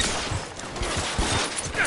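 Gunfire in a zombie shooter video game, a rapid volley of shots crackling over busy in-game noise for about two seconds.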